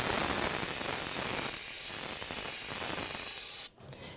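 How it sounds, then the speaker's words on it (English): Brake cleaner sprays onto Jeep Wrangler brake parts in a steady, close, hissing aerosol jet for over three seconds, then cuts off abruptly, followed by faint handling noises. "So now I'm going to clean it off with some brake clean."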